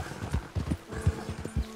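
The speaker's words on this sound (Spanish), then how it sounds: "Tu caballo está nervioso con la presencia de un depredador." A horse in Red Dead Redemption 2, nervous near a predator in snowy terrain, stamps and clip-clops in quick irregular hoofbeats with soft snorting, close and fairly loud.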